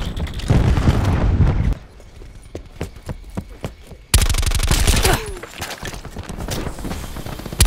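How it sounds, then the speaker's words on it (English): Call of Duty Black Ops gameplay with a cluster grenade and gunfire: loud bursts of rapid shots and blasts, a quieter stretch of scattered single shots, then another dense burst of firing. "Cluster grenade incoming."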